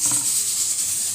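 Steady hiss of a pressure cooker whistle venting steam while beef shank cooks for bulalo soup, a continuous bright airy rush with faint low rumble beneath, no talk.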